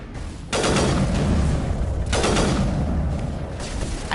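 Gunfire from a sniper rifle in the video game Mass Effect, two loud broadband blasts that each ring out and decay over a steady low rumble of battle noise, with no talking.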